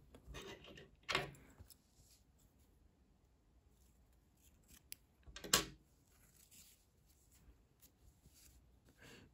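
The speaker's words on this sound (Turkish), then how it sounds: "İpliği burada kesiyorum." Scissors cut crochet yarn on a baby's ruffled sweater in two quiet, brief snips several seconds apart, with faint handling rustles in a hushed room.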